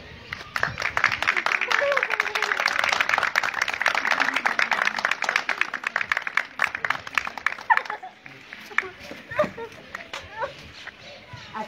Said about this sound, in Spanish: Vamos a darle un fuerte y hermoso aplauso a ellas.